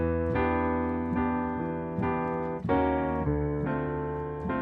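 Sustained piano chords from a song change every second or so, with a brief chromatic passing chord slipping between two of them, played alone.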